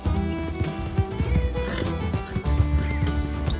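A horse in the Western video game Red Dead Redemption 2 clip-clops along with steady hoofbeats and lets out a whinny, close and clear over low, droning background tones.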